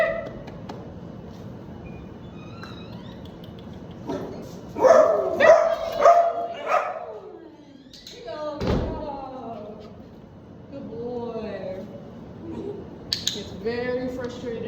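A frustrated young dog barks at another dog passing on a leash during training, several loud sharp barks and yelps mixed with thumps, while a person talks nearby.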